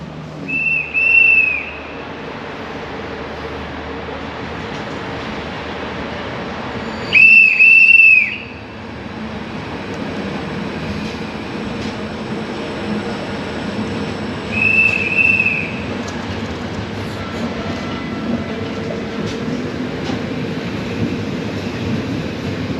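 A train whistle blows at a station in Bucharest, three separate blasts spaced several seconds apart over a steady low rumble of rail traffic and the station.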